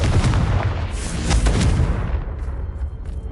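A Confringo spell blast in Hogwarts Legacy lands as a loud, booming burst with a long rumbling tail, followed by a few sharper pops, and then fades toward quiet.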